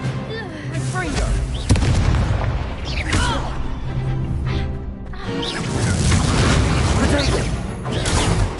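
Explosive blasts and crackling magical bursts from combat in Hogwarts Legacy, dense and loud, with repeated booms over a busy mechanical background and a voice calling out spells.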